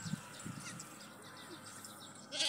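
A goat kid bleats faintly a few times in a farm pen among older kids, short wavering cries at a distance that sit over low background noise, with a louder rustle at the end.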